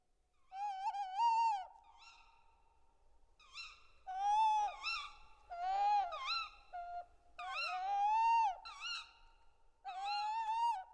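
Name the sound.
tawny owl hooting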